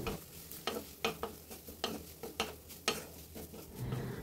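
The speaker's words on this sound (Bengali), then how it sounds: "তো সয়া সসটা দিয়ে একটু নেড়ে নিচ্ছি" Vegetables with soy sauce being stirred in a pan, a series of sharp spatula scrapes and taps in an uneven rhythm over a light, close sizzle.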